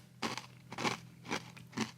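Dark keto cereal is crunched dry, four distinct crisp bites and chews spaced roughly half a second apart, close and fairly quiet, with no talking.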